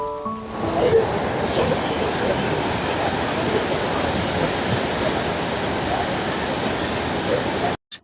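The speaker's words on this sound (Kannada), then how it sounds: "ಬೋರ್ಗರೆಯುವ ಸಮುದ್ರವನ್ನೊಮ್ಮೆ ಕಣ್ತುಂಬ ನೋಡಿಕೊಳ್ಳೋಣ ಬನ್ನಿ" Roaring sea surf at Murudeshwar during heavy monsoon rain, a dense, continuous wash of breaking waves and rainfall that stays loud and steady throughout, cutting off abruptly at the end.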